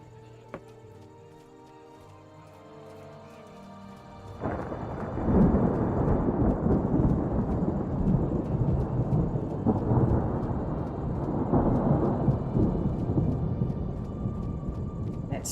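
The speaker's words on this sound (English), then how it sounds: "Let's try to outrun the storm." A thunderstorm in the video game Morrowind: a quiet stretch gives way to a loud crack and rumble of thunder, then heavy, continuous rain and rolling thunder.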